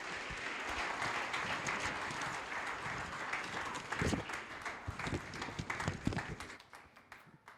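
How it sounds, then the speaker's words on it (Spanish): A conference audience applauds to welcome the speaker, with full, steady clapping that grows choppier and thins out toward the end as it dies away. "Recibamos con un fuerte aplauso a nuestro querido hermano, el doctor David Ormachea"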